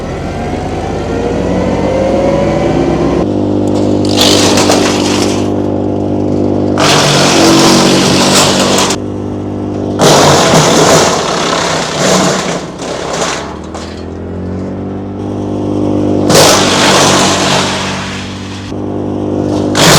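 Compact tractor running a Hansa 5-inch PTO-driven wood chipper with the engine revved toward 2,500 rpm: loud, close engine drone that repeatedly surges and drops as pieces are fed in, with bursts of harsh chipping noise.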